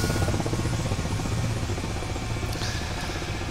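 Helicopter in a flight simulator hovering near old seaplane slipways by the water, with a steady, loud rotor and engine drone that holds evenly throughout, close and continuous with no talk.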